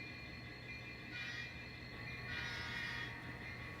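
A model railroad engine pulls a grain train along the track, giving a low, steady rumble with a faint whine and two brief swells of brighter rolling noise, fairly quiet overall.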